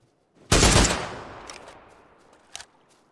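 A full-auto SLR rifle in PUBG fires one loud, fast burst that rings and fades over about a second, then a single fainter shot follows, with no talking.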